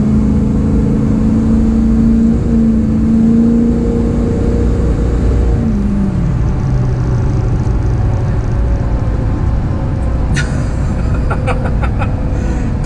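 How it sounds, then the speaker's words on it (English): A tuned 6.0 Powerstroke diesel pickup accelerates hard in a long, loud, sustained pull, the engine note climbing steadily before shifting and continuing to build, with a turbo whir over it. "Try to get a decent pull without the tires spinning."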